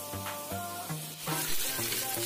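Onions and carrots sauté in a little oil in a saucepan, giving a steady, moderate sizzle over a faint tonal backdrop, with no voices.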